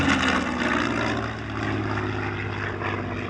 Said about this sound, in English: Here, for example, is 100 Squadron's Hudson, the only Mark III Hudson currently flying in the world.